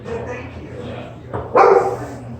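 A dog at a dog show gives a couple of sharp barks, one short yip midway and a louder bark toward the end, heard close over a low background hum.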